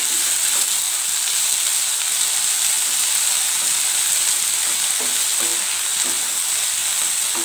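Chaya (Mexican spinach) leaves cook with salt in a pan for a thoran, giving a steady, close frying sizzle and hiss that runs evenly throughout with no voices.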